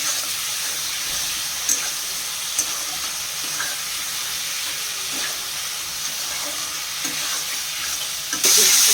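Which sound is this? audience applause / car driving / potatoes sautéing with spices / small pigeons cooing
potatoes sautéing with spices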